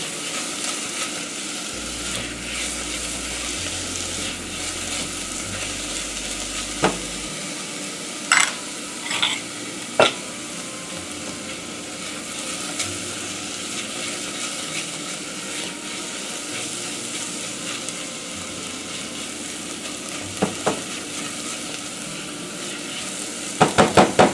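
Chopped onion and garlic sweat gently in a pan for a tomato sauce, giving a soft, continuous sizzle broken by a few sharp clacks and scrapes of stirring.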